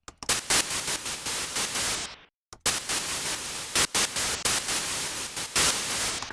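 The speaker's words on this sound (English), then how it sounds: "Dig is just some white noise, and I wrote in automation for the volume and pitch." Video game dig sound effect built from white noise with volume and pitch automation, heard as repeated harsh bursts of static that pulse in and out, one short silent gap, no voices.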